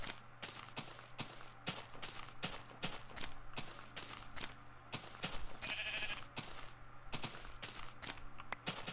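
Sheep in the Minecraft video game bleating and being sheared, with rapid repeated clicks of shears and footsteps, a short burst of bleats midway, all fairly loud with no talking.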